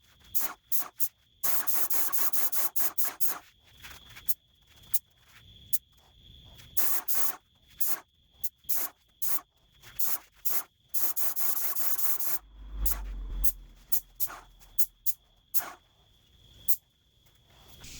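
A spray gun lays the last coat of paint on a princess bed, sounding as many short hissing bursts that start and stop in a rapid irregular rhythm, close and fairly loud.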